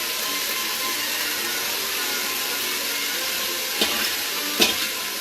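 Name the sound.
onions dumped into hot oil sizzling in Instant Pot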